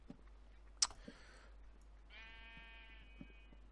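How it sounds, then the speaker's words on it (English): A single sheep bleats in Minecraft, a wavering, buzzy cry of about a second. Before it come sharp clicks and faint game noises, all quiet and heard alone. "There's a brown sheep here."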